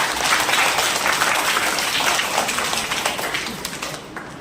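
An audience claps warmly at a school celebration of Dr. APJ Abdul Kalam's birthday, a dense burst of applause that holds steady, then gradually tapers off.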